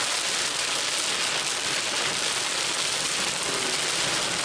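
Steady, dense rain pours down during a Florida storm, a continuous broadband hiss of drops hitting surfaces that stays loud and even throughout with no voices.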